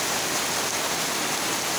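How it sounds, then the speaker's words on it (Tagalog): Heavy rain pours in Surigao del Sur during a flood, a dense, even, close roar of downpour with no pauses. "Ang lakas, kalakas ng ulan."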